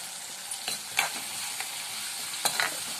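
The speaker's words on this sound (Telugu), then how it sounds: "జస్ట్ ఒక 5 మినిట్స్ వేగాలండి చింతపండు గుజ్జు అంతా" Tamarind pulp frying and being stirred in a pan, a steady close sizzle broken by a few sharp spoon scrapes against the metal.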